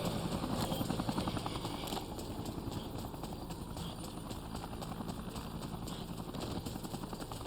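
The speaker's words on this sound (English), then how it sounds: "Let's see if we can get rid of that helicopter now." A helicopter hovers overhead in the zombie video game Dead Rising Remastered, its rotor beating in a rapid, steady chop that stays loud and constant throughout, with no voices.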